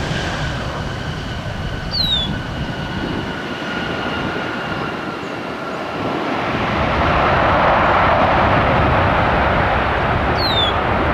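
A jet airliner in PSA retro livery roars steadily throughout at Cleveland airport, its broad engine rumble swelling louder toward the end with a faint high whine, no voices.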